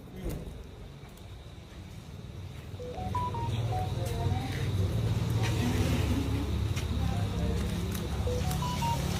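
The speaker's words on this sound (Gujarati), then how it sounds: "જયશીલભાઈ ને ફોન કરું." Telephone keypad tones sound as a short run of beeps under a steady vehicle rumble, fairly faint against the background, with a person talking in the clip.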